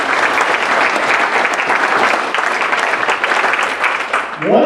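Audience applause for county government and metro parks partners at a canal byway update event, a dense, steady round of clapping sustained throughout and fairly loud, tapering slightly at the end.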